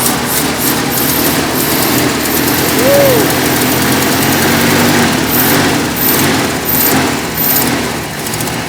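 A 1972 Ford F250 with a 390 V8 engine, parked since 2007, runs on its own fuel through the carburetor, giving a loud, steady idle with a continuous close-up mechanical clatter and no talking.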